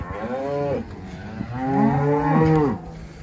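Cattle moo loudly and close by as cows are pushed up to sort off the calves before running them through a chute, two long drawn-out calls one after another with no talk.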